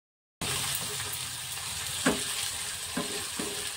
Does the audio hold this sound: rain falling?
no